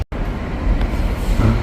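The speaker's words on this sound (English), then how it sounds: "Right now on the 1 train headed back to South Ferry." A New York City subway 1 train rumbles steadily from inside the car, with a continuous low roar and faint rattles and clunks from the tracks.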